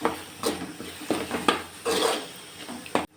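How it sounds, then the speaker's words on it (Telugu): A spoon stirs yogurt into egg curry in a pan, with repeated scraping strokes and light metallic clinks against the pan at close range, plus a faint sizzle underneath. "ఇప్పుడు రెండు టీ స్పూన్లో పెరుగు వేసుకున్నాము వేసుకొని కలుపుకోవాలి"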